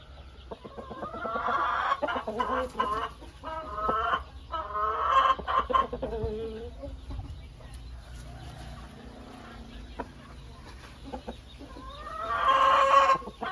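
A breeding rooster weighing over three kilograms clucks and calls in bursts close by, with short pauses between, then a louder squawking call near the end.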